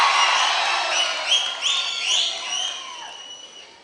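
A concert crowd cheers and whistles loudly, with whoops and several sharp whistles rising over a dense wash of applause that slowly fades.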